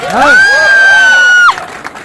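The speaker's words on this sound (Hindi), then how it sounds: "जोरदार तालियां" A crowd at a motivational gathering cheers, led by one long, loud sustained whistle or whoop lasting over a second before the noise drops to a lower murmur of voices.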